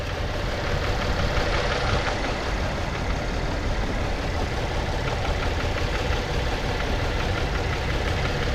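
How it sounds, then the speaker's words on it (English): A 2012 Chevy Impala engine that had a crank-no-start fault, now running with a steady, close, continuous drone and a faint ticking roughness throughout, with no talk. "I don't like the sound of this engine."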